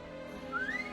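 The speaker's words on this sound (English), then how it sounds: "Igor whistles." A rising whistle from a character calling a tall red horse in the game Reverse: 1999, a single clear tone sliding upward over soft background music, heard alone without talk.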